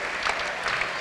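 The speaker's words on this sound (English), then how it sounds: "A terrific round of applause to the remaining starters for Lorain Catholic." Steady crowd applause fills a gym at a boys' high school basketball game at Lorain Catholic, a dense, even wash of clapping close around.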